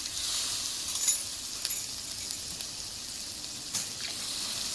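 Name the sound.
pouring water into spiced vegetables in a pan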